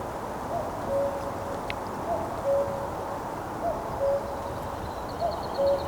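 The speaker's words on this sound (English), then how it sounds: "But that's cuckoo." A cuckoo near Mora, Sweden calls its two-note song again and again at a steady pace, distant and soft over a constant wash of background noise.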